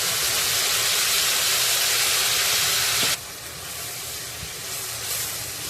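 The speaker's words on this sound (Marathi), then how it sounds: "आता आपण तयार केलेली सर्व पेस्ट त्यामध्ये घालायची आहे" Masala paste dropped into hot oil with cumin for chicken liver fry, a loud, dense sizzling hiss right up close that suddenly softens to a quieter steady frying partway through, with no talk.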